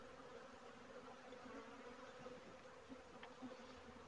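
A steady, dense buzzing of many honey bees close by at a Flow Hive, continuous and even throughout, with a faint background hiss and no voices.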